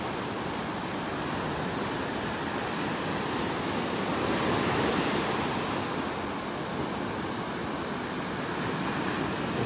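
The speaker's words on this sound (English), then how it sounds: "The waves have really kicked up this morning." Ocean waves wash onto a beach in North Naples, Florida, stirred up by strong onshore winds, forming a broad continuous roar of surf that swells gently and stays steady throughout with no talking.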